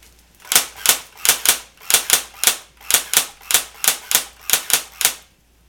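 Pulse R71 airsoft gun firing on semi-automatic: thirteen sharp, evenly spaced shots about two per second, loud and close, with no talking.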